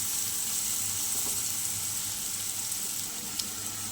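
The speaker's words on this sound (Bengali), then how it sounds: "চলো সুন্দর করে ভেজে নিই।" Spices and a little chili fry in a pan, a steady loud close sizzle with an occasional faint stir, no talking.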